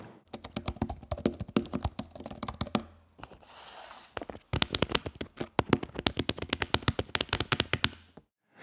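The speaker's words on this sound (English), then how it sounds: "The keys are scissor switches with a really solid feel, good travel, and a pretty decent thunk." Rapid typing on a low-profile Magic Keyboard for iPad Pro with scissor switches, crisp clicky keystrokes in quick bursts with a brief pause midway, close and alone.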